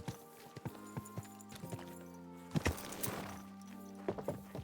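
Horse hooves clop in irregular steps inside the medieval game Kingdom Come: Deliverance 2, close and fairly quiet over a tonal ambient music bed, with a few louder thuds.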